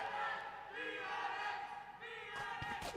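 A crowd at a Valorant esports match, the Invitational in Hyderabad, cheers and shouts well past midnight, a dense energetic roar with rising yells and a few thumps toward the end, with voices mixed in.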